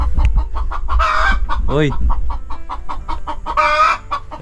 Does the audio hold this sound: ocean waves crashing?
no